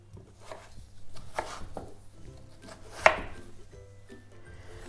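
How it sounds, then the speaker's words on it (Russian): Potatoes are chopped into small cubes with a knife on a board, a soft irregular run of close, fairly quiet taps with one sharper knock partway through, without any speech. "Я сразу начинаю с картофеля, нарезаю его некрупным кубиком."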